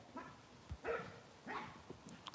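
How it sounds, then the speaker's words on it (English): A dog barks a few times, faint and distant, outdoors around a garden, short separated yelps with no talk over them. "I can hear a dog."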